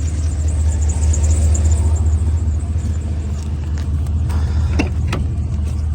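An old blue truck's engine rumbles steadily at close range, a low constant drone while driving, with a few faint rattles and clicks near the end.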